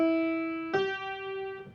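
A triad played melodically on a tonal instrument: one sustained clear note, then a second note entering partway through, soft and alone.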